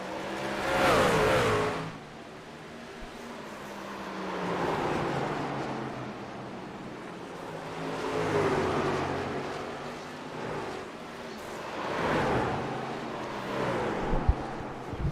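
Race cars at Nashville Fairgrounds Speedway rev and rumble in repeated rising and falling waves, loud and fairly close, with engine swells passing every few seconds.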